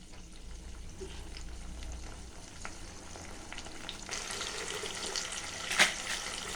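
Ground tomato paste and onions sauté in a wok with a soft, low sizzle that grows brighter and louder near the end, where a short stirring clatter comes through. No one speaks.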